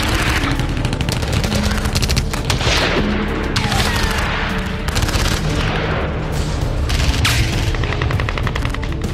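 Dense bursts of gunfire and heavy explosions fill the air during fighting in Mariupol, with rapid machine-gun volleys and booming blasts overlapping continuously, loud and chaotic with no speech.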